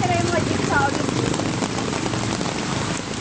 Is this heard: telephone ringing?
no